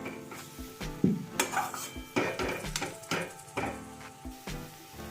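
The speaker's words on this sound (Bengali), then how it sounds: "এটা কিন্তু ক্রমাগতই নাড়াচাড়া করতে হবে" Semolina and sugar stirred continuously in a pan over low to medium flame, with repeated scraping and knocking of a spoon against the metal pan and a faint sizzle underneath.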